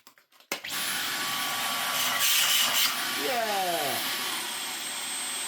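A restored Dyson V11 cordless vacuum cleaner starts with a sharp click and whirs up to a steady high-pitched motor drone, the floor head adding a brief sliding pitch sweep, close, with a short spoken word over it.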